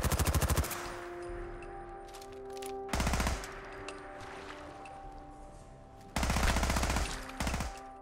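Modded weapon gunfire in Fallout 4: rapid automatic bursts, loud and close, with three long volleys separated by quieter mechanical pauses, followed by a short final burst, and no voices.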